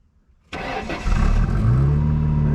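Classic Ford Mustang with a fuel delivery problem cranking and firing up: a short grinding starter, then the engine catches and settles into a loud, steady rumble nearby, with no talk.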